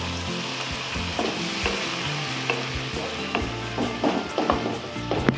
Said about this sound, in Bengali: এরপর আমরা এর মধ্যে দেবো টমেটো বাটা দিয়ে আবার আমরা ভালো করে এটিকে কষিয়ে রান্না করে নেব।